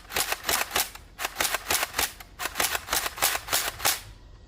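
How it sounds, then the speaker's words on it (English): An X-Shot Pro Longshot toy blaster is slam fired in quick bursts, a rapid series of sharp, loud, close snapping shots in clusters with short pauses between them. "I'm just going to slam fire, because this blaster does also have slam fire"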